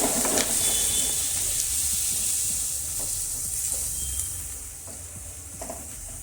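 Green chillies, tomatoes and spices frying in a hot oil tempering for potato and fenugreek curry, a steady close sizzle and hiss with occasional stirring, no talk.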